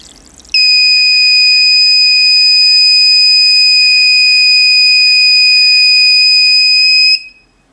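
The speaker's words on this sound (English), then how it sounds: "After the water tank is full, the buzzer alarm will automatically turn on." A homemade water tank overflow alarm circuit sounds its buzzer: one loud, piercing, continuous electronic tone that lasts about seven seconds and then cuts off.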